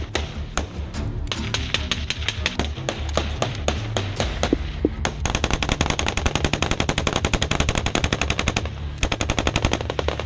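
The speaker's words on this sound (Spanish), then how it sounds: "utilizar una de las joyas del arsenal de Washington, la poderosa ametralladora" An M240 machine gun fires in combat, loud sharp shots coming first in scattered short bursts, then in a long, rapid continuous stream of rounds.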